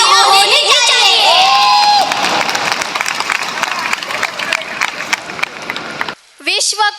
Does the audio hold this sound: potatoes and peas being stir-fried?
no